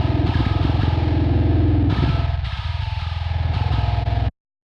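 Distorted bass tone in a metal mix, a loud, gritty, sustained low drone with rhythmic chugging pulses, cutting off abruptly near the end.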